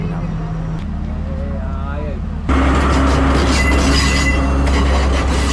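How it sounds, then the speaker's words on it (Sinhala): The Ella Odyssey special train passes at Nine Arches Bridge with a loud, steady rumble of wagons and squealing wheels; it starts quieter, then jumps sharply louder partway through as the train comes close. "මේ ට්‍රේන් එක ඇවිල්ලා මෙතනින් නවත්තනවා. ඒ කියන්නේ මේක ස්පෙෂල් ට්‍රේන් එකක්."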